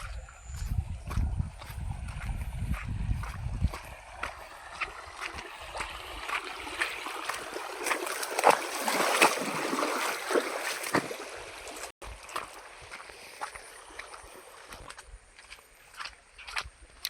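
A small river stream flows past a farm plot, producing a steady broadband rush with scattered clattering steps or knocks throughout, moderately loud and close.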